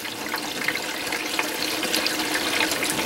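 Water from a small cleanup nozzle runs down a gold sluice box in a steady, loud, hissing rush with no breaks and no talking.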